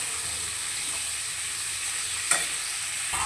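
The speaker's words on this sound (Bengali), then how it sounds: "তো ভালো করে এবার পেঁয়াজটা দিয়ে আলুটাকে ভেজে নেব।" Onion and potato fry in a pan for a Bengali home-cooked meal, giving a steady, close sizzle with faint stirring scrapes and one sharper clatter near the end.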